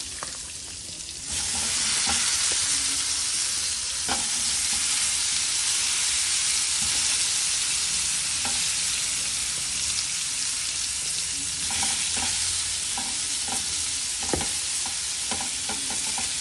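Pineapple cubes fry in a buttered pan with a steady, close sizzle that runs almost the whole time, with a few soft clinks and scrapes from stirring along the way.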